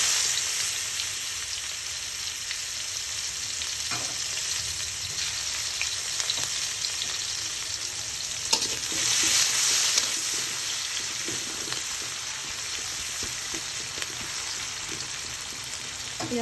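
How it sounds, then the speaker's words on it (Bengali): Chopped onions fry in hot oil in a pan, a continuous even sizzle lasting the whole stretch, with a few faint scrapes of stirring and no talking. "এবার তেলে পেঁয়াজ কুচি দিয়ে দিব"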